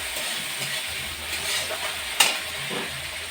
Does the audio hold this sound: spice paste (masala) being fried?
yes